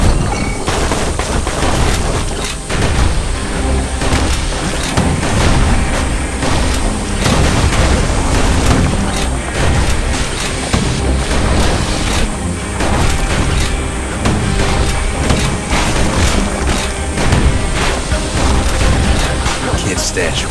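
Relentless musket blasts and booming explosions from the video game Bastion, loud and dense with overlapping shots and rumbling detonations throughout, while a narrator's voice speaks over the combat.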